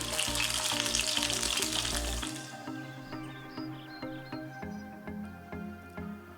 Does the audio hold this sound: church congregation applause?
no